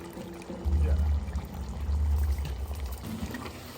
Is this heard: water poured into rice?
yes